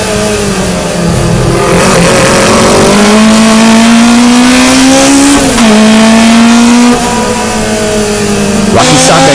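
Race cars on a circuit after a restart, engines loud and close, one rising revving note climbing and holding through gear changes while other cars drone underneath; a brief dip midway then the roar resumes.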